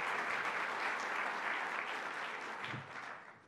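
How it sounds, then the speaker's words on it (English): A crowd at a New York press event in the Bronx applauds State Senator Louis Sepulveda, dense steady clapping that holds for a few seconds and then tapers off. "One more round of applause for our State Senator, Louis Sepulveda."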